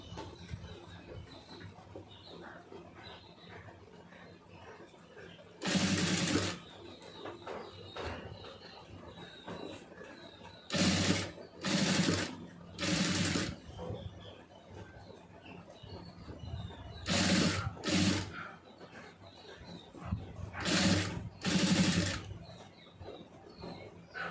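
A sewing machine stitches piping onto fabric in repeated short bursts of whirring, each about a second long, separated by quiet pauses, with no one talking.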